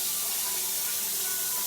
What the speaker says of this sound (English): And you run it under cold water.